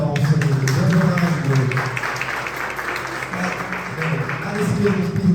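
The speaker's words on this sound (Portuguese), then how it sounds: "E dê a salva de palmas" A church congregation at a Sunday service applauds with dense, steady clapping that fills the whole stretch, while a voice speaks over it.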